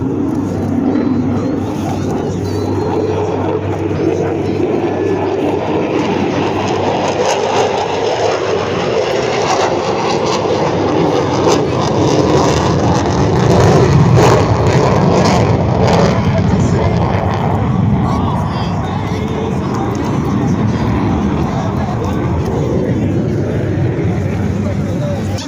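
Aerobatic airplane performing a tight minimum-radius turn at the 2021 Salinas, California airshow, a loud continuous engine roar swelling and fading over about 25 seconds, with crowd voices and an announcer beneath it.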